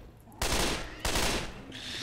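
Two sustained bursts of M16 rifle fire from the Left 4 Dead 2 zombie shooter, loud and close, each roughly half a second of rapid automatic shots, separated by a brief gap and followed by a quieter trailing sound.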